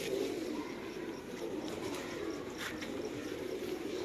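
Strong-beaked pigeons in Lahore cooing softly, a low, faint, continuous burble with occasional light chirps in the background.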